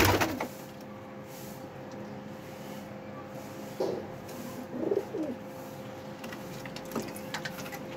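A pigeon being held and handled in the hand gives a few soft, short coos near the middle, faint over a low steady background hum.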